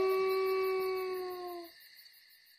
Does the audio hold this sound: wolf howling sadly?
yes